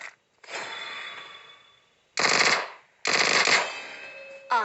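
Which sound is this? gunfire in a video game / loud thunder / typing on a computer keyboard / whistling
gunfire in a video game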